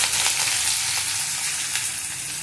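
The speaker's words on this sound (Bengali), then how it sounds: "একটু পেঁয়াজ কুচি দিয়ে দিলাম," Chopped onion fries in hot oil with cumin seeds and green chili, giving a loud, continuous close-up sizzle and crackle with no talking.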